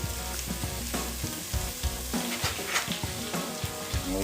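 Beef mince fries in a pan with green pepper and onion for a spicy beef curry, giving a loud, continuous sizzle broken by repeated scraping stirs and clatters close to the microphone, with no talk.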